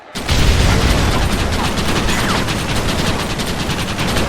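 Sustained, dense machine gun fire from a Red Dead Redemption battle, loud and continuous, with rapid rattling bursts and booming impacts running throughout.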